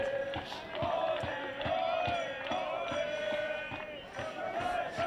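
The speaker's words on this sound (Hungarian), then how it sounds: "És Horváth Péter hagyja el a pályát, hatalmas taps jár neki." A football crowd at a stadium applauding and calling out as a player leaves the pitch, a continuous mid-distance roar with rhythmic clapping and shouts.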